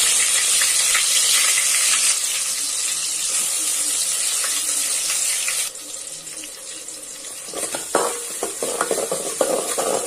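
Ginger and garlic hit hot oil already holding cinnamon and cloves for a spicy country chicken curry, giving a loud steady sizzling hiss that drops in intensity midway, then continues with scraping stirs and a few clatters.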